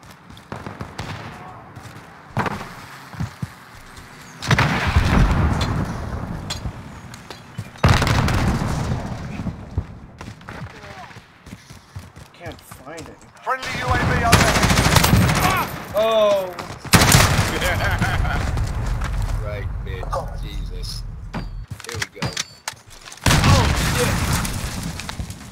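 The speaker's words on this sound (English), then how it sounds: "He's shooting at me." Gunfire and explosive booms from the video game Modern Warfare, with the Freedom tracer pack, come in several loud bursts and volleys separated by quieter stretches, while a player talks over parts of the action.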